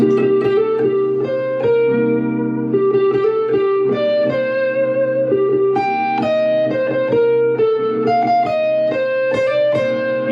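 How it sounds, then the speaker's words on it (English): Guitar plays the Happy Birthday melody in C Dorian over a looped minor seventh chord, each note clear and sustained, moderately loud and steady with no talking. "now Happy Birthday in Dorian sounds like this"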